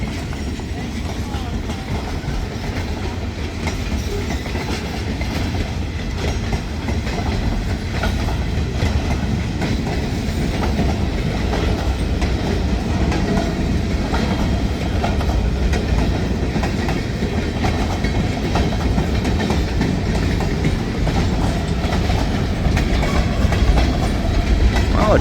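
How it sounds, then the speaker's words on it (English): A long freight train with gondola cars rolls past nearby, a continuous heavy rumble with steady clickety-clack of wheels on rail joints throughout. "the train's a little longer now with the gondolas out front"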